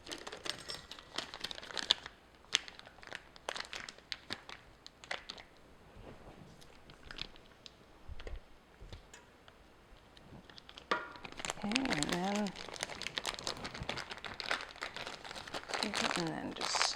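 Frosting pushed into a plastic piping bag fitted with a star tip gives close crinkling and squishing rustles, sparse at first, then denser toward the end.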